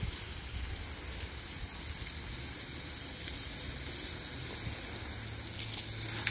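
Water pours from a watering can onto garden plants in San Diego, making a steady, even hiss and splash that runs unbroken from start to finish.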